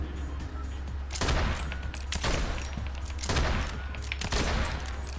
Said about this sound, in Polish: Tam się ktoś strzela